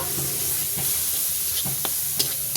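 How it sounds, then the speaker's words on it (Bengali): Turmeric, chilli powder, tomato and chopped green chilli are sautéed in a pan, making a continuous close sizzle punctuated by several sharp spatula scrapes and taps. "এবার আমি এটা কষিয়ে নেব"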